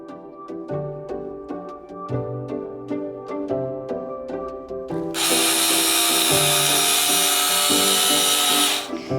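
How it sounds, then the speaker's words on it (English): A power screwdriver whirs in a series of short, close bursts while fitting bedroom moldings during a makeover, then runs in one sustained, loud stretch near the end, with background music throughout. "A screwdriver."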